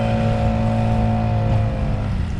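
A steady, droning small outboard motor on a NuCanoe Pursuit kayak runs continuously at constant pitch, close and fairly loud, with no voices.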